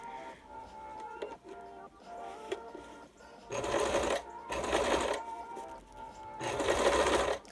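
Sewing machine stitching a fabric waistband from the center front: a few short stitching runs, then three longer, louder bursts of rapid mechanical whirring, close up.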